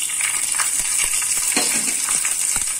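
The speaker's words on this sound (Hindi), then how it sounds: "अब हम इसमें डालेंगे लहसुन।" Garlic hitting a hot pan while cooking whole black masoor daal (kali masoor), a steady close frying sizzle with small crackling pops and light stirring clinks throughout.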